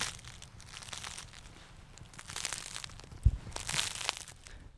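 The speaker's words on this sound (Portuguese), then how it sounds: "Deu pra ouvir o barulhinho do pão italiano estralando?" Crusty Italian bread at a bakery in Mooca crackles and crunches softly as the loaf is squeezed, a quiet close-up rustle with one sharper snap near the end.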